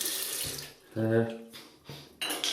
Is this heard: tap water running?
yes